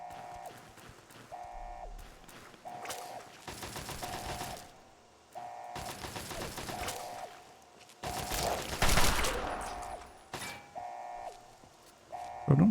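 Gunfire in the video game Fallout 3 during a fight with a centaur: repeated bursts of rapid automatic fire alternate with short beeping tones, with a louder, denser barrage near the end.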